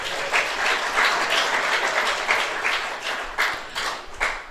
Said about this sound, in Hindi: अच्छा भाई, सबके लिए ताली बजाओ।